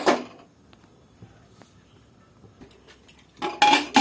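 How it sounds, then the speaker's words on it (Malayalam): Ingredients going into a pressure cooker: a short burst of metal clatter and clinking at the start, faint small knocks in between, then louder rattling of pot and utensils near the end, with no talk. "കുക്കറിലേക്ക് ഇട്ട് കൊടുക്കുന്നുണ്ട്"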